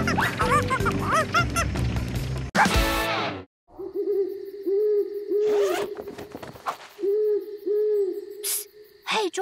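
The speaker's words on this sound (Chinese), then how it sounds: "只是猫头鹰在叫" An owl hoots repeatedly in an animated children's cartoon at night, with several clear, mid-pitched hoots in short bursts after a loud musical passage and a quick whooshing effect.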